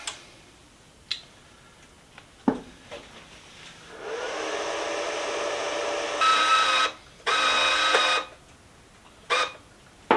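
Bestarc MIG145 MIG welder feeding flux-core wire, a steady mechanical whir in long runs of a few seconds, broken by brief gaps and sharp clicks as the trigger is pressed and released, close by.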